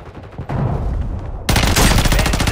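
Call of Duty gunfire, loud and close: scattered single shots at first, then a sudden dense burst of rapid automatic fire that runs to the end.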